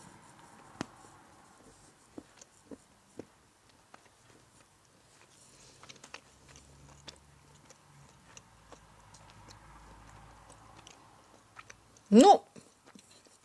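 Dark chocolate, 70% cocoa, being bitten and chewed close up: scattered faint clicks and soft crunches, then one sharp, loud bite near the end, in an otherwise quiet room.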